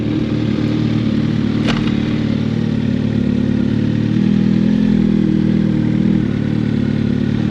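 A motorcycle idles loudly and steadily up close, with one sharp click as it shifts gears and a slight rise in the engine note partway through.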